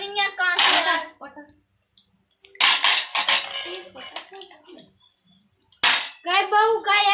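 Steel utensils and dishes are washed by hand in a household, with sharp, close clinks and clatters in quick bursts separated by quiet gaps, and people talking between them.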